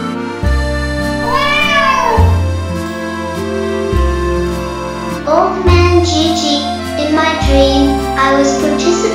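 A black female stray cat meows repeatedly over steady background music, the meows standing out clearly at close range in a few bursts.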